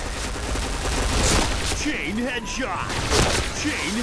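Gunfire in the video game Point Blank, from a Kriss-type weapon: dense rapid shots under excited talk, with in-game effects layered over the shooting.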